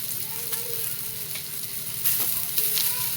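Coriander stems sizzle steadily in a pan while being stirred for tomato and green chili thecha, a close, even frying hiss with a few scraping stirs and a brighter burst near the end.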